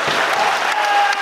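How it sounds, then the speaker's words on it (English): Dense crowd applause rings out ringside at a Manchester boxing title fight, steady and loud for both fighters after three rounds, with scattered cheers on top. "a massive round of applause for both these men"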